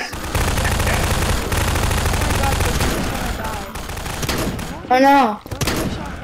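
Rapid gunfire in a zombie video game, dense bursts that keep firing for several seconds and then thin out, followed by a sharp loud blast, with players talking over it.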